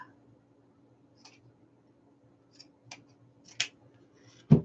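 Scissors cut ruffle material for a beach wreath, giving a few quiet, sparse snips that grow louder toward the end, with one strong close cut at the finish over a faint hum.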